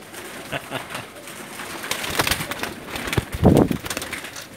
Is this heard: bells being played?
no